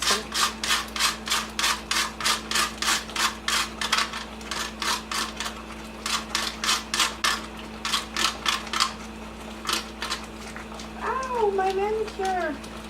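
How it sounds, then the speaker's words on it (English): Steady rhythmic rasping of a hand grater working through an ingredient for cornmeal porridge, a quick run of strokes, a pause, then more strokes, with a cat meowing near the end. "You have to really be careful when using a grater"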